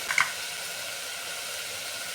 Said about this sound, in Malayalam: ഇതെല്ലാം ഞാൻ നന്നായിട്ട് വഴറ്റിയെടുത്തിട്ടുണ്ട്